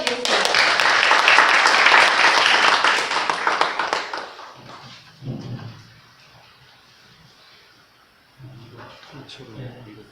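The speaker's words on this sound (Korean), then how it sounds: "다 같이 박수로 맞아 주시겠습니다" Loud crowd applause fills a church conference hall in Korea as an audience welcomes a speaker to the stage, clapping for about four seconds before fading to quieter scattered sounds and faint voices.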